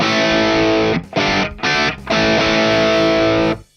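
Distorted electric guitar through an amp with the bass turned down, sustained overdriven chords with short gaps between them, loud and close, then ringing out to silence.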